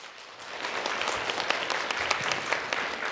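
An audience at an education conference for school parents applauds a parent committee member after her presentation, with dense, steady clapping and a few sharper claps standing out, sustained throughout.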